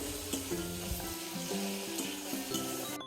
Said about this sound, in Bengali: ওখানে বড়াগুলো ভেজে রাখছে, এখানে মশলা কষানো হচ্ছে।